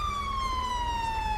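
A police car siren in the video game GTA V wails in a steady, slowly falling tone, loud and continuous with a low engine rumble beneath.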